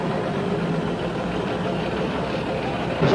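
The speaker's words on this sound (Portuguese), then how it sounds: "estão saindo os últimos caminhões" Heavy trucks leaving a sugarcane-cutting town in São Paulo state in the early morning, engines rumbling and idling steadily at a moderate distance, with a slight rise at the end.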